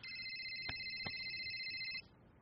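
A mobile phone ringtone plays alone, a steady electronic tone lasting about two seconds with a couple of faint clicks, then cuts off, fairly quiet in a calm room.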